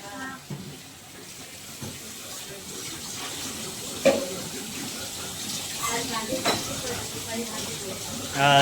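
Water runs steadily from a tap with a constant hissing flow, while a voice speaks faintly in the background and a clatter sounds now and then.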